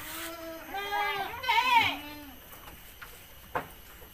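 Goats on a farm bleating in a couple of wavering, nearby calls that overlap briefly, then fade into quieter background noise with a faint thump.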